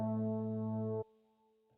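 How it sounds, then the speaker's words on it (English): A Modular Icons synth patch layers a 1975 horns sound with a resonant sine. A rich, brassy sustained chord holds for about a second, then cuts off into a faint lingering tone. "So the sounds that I just chose, which is 1975 horns, which we have on A, and the reso sine, which is on B, they sound like this."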